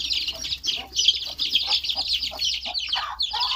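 A free-range village hen with small chicks clucks and chirps in a busy, continuous stream of short calls, with a steady low hum underneath and no talking.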